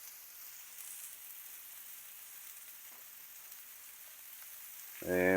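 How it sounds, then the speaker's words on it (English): Steady, quiet sizzling of Salisbury steak patties searing in a hot pan, a continuous crackling hiss; a voice cuts in at the very end. "We're searing the outsides of them."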